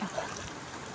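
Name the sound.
rain falling by a river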